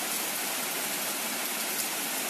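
Storm runoff rushes out of a well after heavy rain: a steady, dense wash of flowing water, continuous and even throughout, with no voices.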